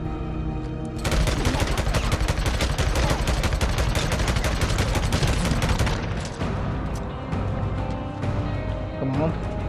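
Dense, loud gunfire in Days Gone, a rapid burst of automatic shots for several seconds, then scattered single shots and booms, close and punchy.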